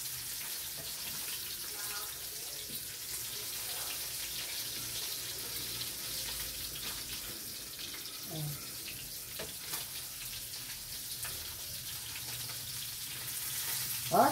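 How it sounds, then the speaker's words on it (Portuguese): Sardines fry in a pan over a wood-fired stove, giving a steady, dense sizzle and hiss that runs evenly through the whole stretch at moderate loudness, close by. "Fritando aqui que é uma beleza."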